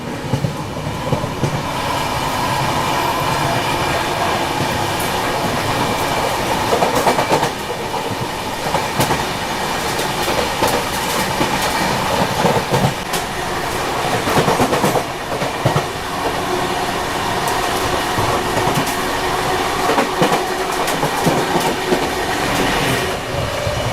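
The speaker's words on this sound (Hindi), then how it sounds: "ये रे भाई लूप पर प्रयागराज एक्सप्रेस।" Prayagraj Express train rolling past on a railway loop line, a loud, close, continuous rumble with steady clickety-clack of wheels over rail joints and occasional metallic squeal, sustained throughout with no talking.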